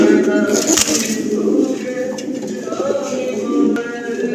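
Pigeons of improved breeds coo softly in a loft, with low burbling calls under steady background noise and a brief rustle or flap midway.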